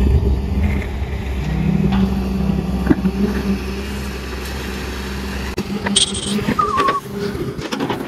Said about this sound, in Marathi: बघू शकता पाठीमागे कप्रेशनचं ट्रॅक्टर आहे आणि यांना आता विहिरीमध्ये खाली होल करणं चालू आहे